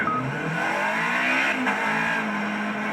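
A racing car engine in the video game Project Cars roars loudly and continuously, revving high with shifting pitch as it accelerates, with a hint of tire noise.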